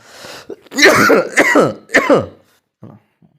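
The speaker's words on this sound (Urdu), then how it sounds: "اب کھانسی لگی ہوئی ہے، بار بار کھانسی ہو رہی ہے" A man coughs and clears his throat several times in quick, harsh bursts, close up, followed by a softer final cough.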